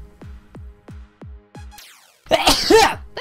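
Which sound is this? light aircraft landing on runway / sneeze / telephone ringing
sneeze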